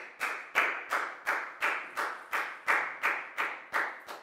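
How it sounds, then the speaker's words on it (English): A Year 4 maths class claps for a student named Nadia in slow, even, unison beats, about a dozen sharp claps evenly spaced with a quiet gap after each. "a big round of applause for Nadia"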